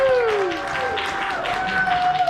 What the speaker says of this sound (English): How about a huge round of applause for Jessie